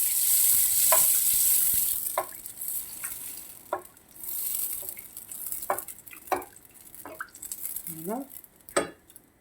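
Sfenj, Algerian doughnuts, fry in hot oil with a steady hiss, broken by clinks and scrapes of a utensil against the pot and brief sounds of handling.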